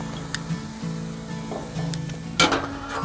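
Fish fillets and grilled vegetables sizzle on a barbecue grill, a steady close crackle with a louder burst of spatter near the end.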